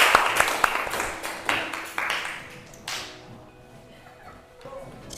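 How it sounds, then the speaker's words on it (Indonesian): A classroom group gives a short burst of clapping for a presenting student group, a few sharp claps over about three seconds that quickly thin out and fade into room quiet. "tepuk tangan untuk kelompok 1"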